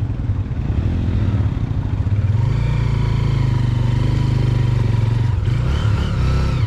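A motorcycle engine on a forest trail revs hard, climbing from a rough idle into a loud, sustained, strained drone with a brief dip near the end, close up and alone without talk.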